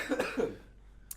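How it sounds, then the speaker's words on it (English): A man with a lingering chest cold coughs a few times in quick bursts, close and fairly loud, then the sound trails into quiet with a brief noise at the end. "Hey, yeah, stupid cough, man."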